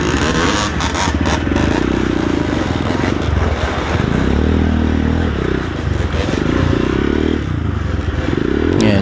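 A Honda XR150L motorcycle labors up a slippery hill in second gear, its engine droning loud and close with steady pulsing, mixed with scraping and clattering from the tires and terrain.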